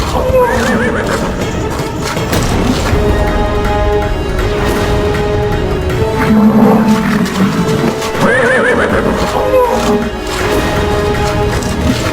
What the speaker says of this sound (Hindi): अश्व की ध्वनि इतनी तीव्रता से क्यों हिनहिना रही है ये?